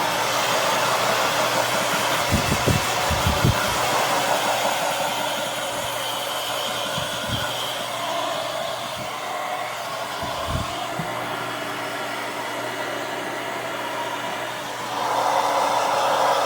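Hair dryer blowing warm air over a raven's feathers, a steady loud whoosh that runs throughout, with a few low thumps and bumps partway through and a brief rise in airflow near the end.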